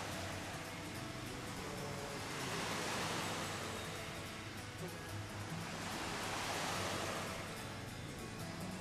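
Broad, steady wash of waves lapping on the shore of Lake Biwa, swelling and easing in slow surges with a breezy hiss throughout and no voices.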